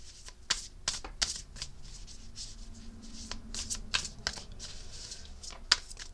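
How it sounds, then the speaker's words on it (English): Oracle card decks are shuffled by hand close up: a run of soft papery riffles and flicks with quick snaps, in irregular bursts. "have to watch me shuffle those oracle decks."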